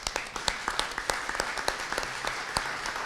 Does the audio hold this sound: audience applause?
yes